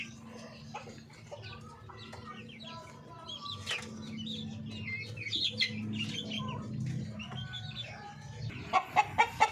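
Darag breeder chickens in a pen give soft intermittent clucks and calls over a steady low hum, ending with a few sharp, louder knocks or flaps near the close.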